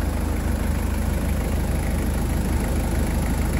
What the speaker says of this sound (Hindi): जो ब्रांड न्यू इंजन होता है ना, डब्बा पैक, उससे भी बेहतर साउंड है इसका